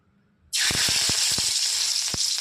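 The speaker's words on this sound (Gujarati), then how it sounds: "પહેલાં આપણે પેન મૂકશું અને તેમાં 1 ચમચી તેલ મૂકી છે અને આ લસણની કરી તેમાં આપણે નાખી દઈશું" Garlic dropped into a spoonful of hot oil in a pan bursts into a loud, sustained sizzle, with crackling pops spattering through it as it fries, close by and with no talk.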